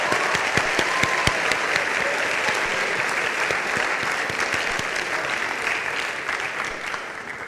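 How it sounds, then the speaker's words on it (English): Audience applause for female athletes at a high school sports awards ceremony, a dense, steady roar of many hands clapping that holds loud throughout and tapers slightly at the end. "let's give a round of applause to all the female athletes in the room"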